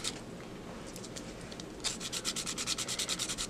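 Coarse sanding sheet rubbing on a Blythe doll part, a quiet scratchy rasp that turns into quick, even back-and-forth strokes in the second half, close and alone.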